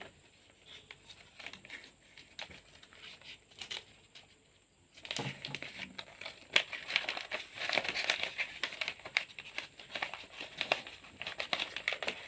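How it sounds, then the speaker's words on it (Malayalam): Paper being rolled up by hand for a craft: soft crinkling and rustling, quiet at first, then a denser stretch of close crackly paper handling that continues to the end. "പിന്നെ നമ്മൾ നേരത്തെ എടുത്ത് വെച്ച പേപ്പറിലേക്ക് ഒന്ന് ചുരുട്ടി വെച്ച് കൊടുക്കാം."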